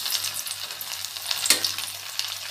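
Coconut bread dough frying in hot oil over a medium flame, a steady close hiss of bubbling oil with a brief sharper crackle near the middle, no voices.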